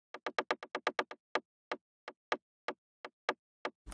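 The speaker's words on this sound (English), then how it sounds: "It's just a white noise attack sound." A white noise attack synth from a Serum noise oscillator plays alone as short, sharp noise bursts. They come in a fast run at first, then spread out into slower, evenly spaced hits.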